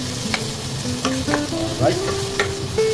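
Onions sizzle and get stirred in a hot pan while chicken gizzard adobo is being cooked. The frying is loud and steady, with scraping stir strokes and a brief spoken word.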